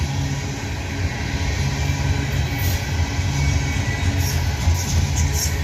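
Freight train hauled by two engines rolls past close by, a loud continuous broadband rumble and clatter of wheels on rails holding steady throughout.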